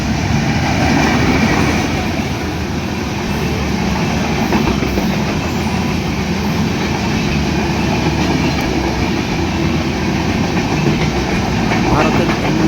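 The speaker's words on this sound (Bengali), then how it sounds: "ভারতের জলপাইগুড়ি থেকে ছেড়ে আসা ঢাকাগামী মিতালি এক্সপ্রেস 65-7 সিরিজের লোকোমোটিভ নিয়ে ঢাকা অভিমুখে ছুটে যাচ্ছে" Mitali Express passenger train hauled by a 65-7 series locomotive, running from Jalpaiguri toward Dhaka, passes through a station with a steady loud rumble and rhythmic clickety-clack of wheels on rails throughout.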